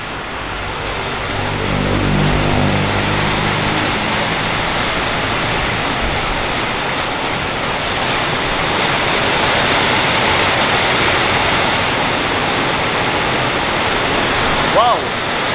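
Heavy rain drums on the roof of a bus in Cambodia, a loud, dense, hissing roar that holds steady throughout, with a vehicle engine rumbling low at the start.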